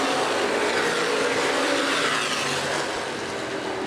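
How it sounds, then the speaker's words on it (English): Street stock race car circling at Winchester Speedway, a broad steady roaring engine wash that holds level then eases slightly, distant and continuous with no talk. "We got a car slowing in turn number 2."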